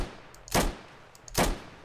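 Two sharp gunshots from the Roblox game Day of Infamy ring out about 0.8 seconds apart, each a short, punchy burst with a brief tail, with no voices.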